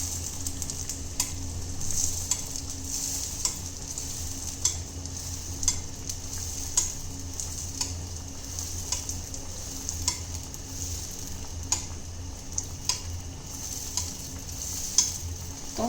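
Moroccan sfenj dough fries in hot oil with a constant crackling hiss, dotted with small irregular pops and ticks; no one speaks.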